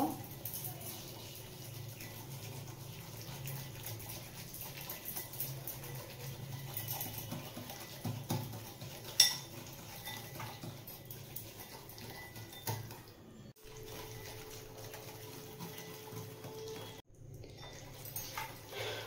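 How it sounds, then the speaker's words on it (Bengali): White oil being stirred into sugar in a bowl for pancake batter, heard as soft, continuous scraping and patter of a spoon against the bowl with a few brief clinks, fairly quiet throughout. "এবার আমি চিনির মধ্যে প্রথমে হাফ কাপ সাদা তেল দিয়ে দেব। ভালো করে মিশিয়ে নেব।"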